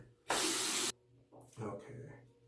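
An Ever-Ready safety razor gets a loud, close burst of running tap water for about half a second, followed by quieter scattered splashes and drips.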